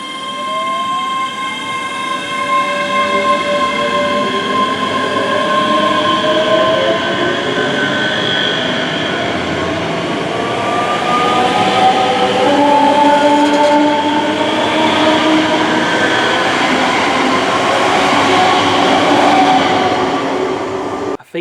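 A passenger train rolls past close by at Linlithgow station in Scotland, a loud sustained rumble with rising and falling metallic whines from the wheels, steady throughout.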